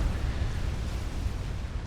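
A nuclear missile detonating in the strategy game Supreme Commander: a sustained, dense low rumble with broadband roar that holds steady for the full two seconds, no talk over it.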